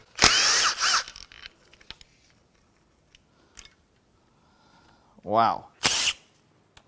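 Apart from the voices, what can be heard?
power tool unbolting the rails on a Hyundai Equus 5.0 Tau V8 engine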